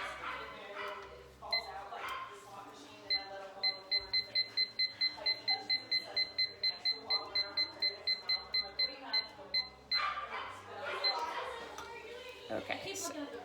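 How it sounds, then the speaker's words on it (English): Laboratory timer alarm going off with a rapid, steady run of high electronic beeps lasting several seconds, heard alongside barking dogs and people talking before and after. "so my timer went off"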